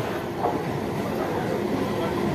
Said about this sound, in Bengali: আমার 3 নম্বর প্ল্যাটফর্ম থেকে ট্রেন আসছে